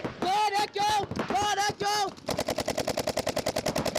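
Rapid bursts of paintball marker fire during NXL paintball practice in Chicago, a fast, steady string of sharp pops, preceded by several short shouted calls from a player.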